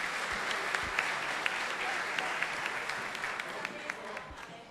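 Sustained audience applause at a formal Brazilian state ceremony honoring the Advocate General of the Union, steady dense clapping with a few sharper individual claps standing out, moderately distant in a large hall.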